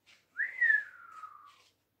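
A single close whistle from a person, a quick rising note that slides slowly downward and fades, heard alone in quiet surroundings.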